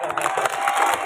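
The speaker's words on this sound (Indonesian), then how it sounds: "Tepuk tangan." Children at a primary-school literacy event applaud together, a dense, steady patter of many small hands with excited shouting and cheering mixed in, close and lively for about a second.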